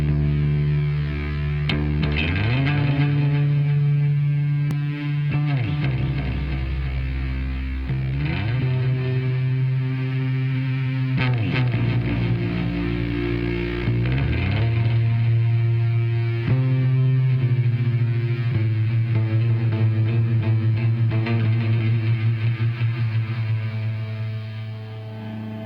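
Bass guitar played through combined echo and fuzz effects, a thick, smooth, distorted low tone with repeating echoes sustained and loud throughout, no talking.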